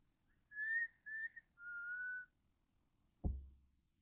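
Three short whistled notes outdoors at night, the first two brief and higher, the last longer and slightly lower, sounding quiet and somewhat distant, followed by a single dull thump.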